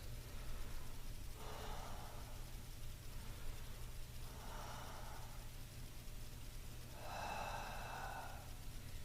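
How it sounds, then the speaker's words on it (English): Three slow, deep breaths during a chair exercise session, each a soft airy inhale-exhale spaced a few seconds apart over a low steady background hum, with no speech. "3 deep breaths."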